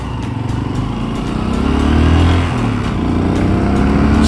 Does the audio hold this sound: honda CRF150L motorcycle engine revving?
yes